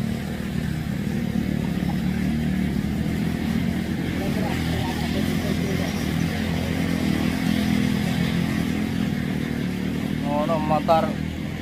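A motorcycle engine runs steadily nearby on a rural farm during a porang harvest, a loud continuous drone throughout, with people talking over it.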